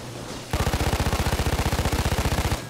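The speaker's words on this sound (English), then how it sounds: "We think we heard sounds of gunfire at the mall" Rapid automatic gunfire in the video game Payday 2: one sustained, loud, close burst of evenly spaced shots lasting about two seconds, with a steady background hum before and after.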